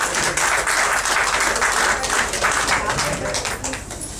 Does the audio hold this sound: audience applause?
yes